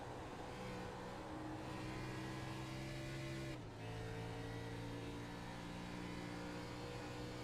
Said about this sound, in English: there you can hear it absolutely out of the gas, pushing in that clutch